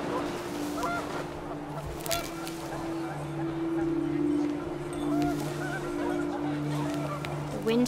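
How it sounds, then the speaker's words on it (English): Panicked geese honk in the game What Remains of Edith Finch, a dense flock of overlapping calls heard over gusting wind and a low droning background. "The wind picked up and panicked geese appeared and quickly went."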